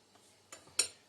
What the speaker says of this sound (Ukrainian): Все це розмішую.